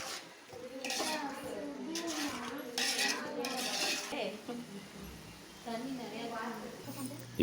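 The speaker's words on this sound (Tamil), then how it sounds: "இந்த மசாலா, ஆனியன் கிழங்கு எல்லாம் நல்லா வதக்கணும்" Masala, onions and potato are sautéed in a pan for mutton dum biryani, with a spatula clanking and scraping the metal in repeated strokes beneath steady talking and occasional children's voices.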